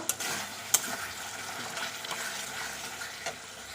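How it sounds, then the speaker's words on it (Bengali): Raw mustard oil is stirred into an egg dish in a hot pan, a quiet sizzle with scraping stirs and a couple of sharp clinks early on, fairly faint and close. "দিচ্ছি একটু সর্ষের তেল একটু মিশিয়ে নেব"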